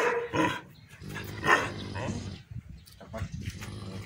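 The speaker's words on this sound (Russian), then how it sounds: "На кого он лает?" A dog barks several times nearby in short bursts, mixed with people talking.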